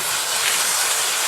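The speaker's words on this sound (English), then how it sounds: "you want to make sure and rinse those until you're no longer seeing any dust come out of those" Water runs steadily over rocks in a bucket as they are rinsed for a hydroponic drip setup, a loud, continuous rushing hiss with no talking.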